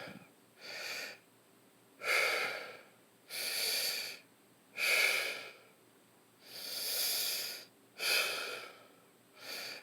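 Deliberate thoracic chest breathing, shown as a demonstration: about eight slow, audible breaths alternate between inhaling and exhaling in a steady rhythm, close and fairly quiet, with no talking.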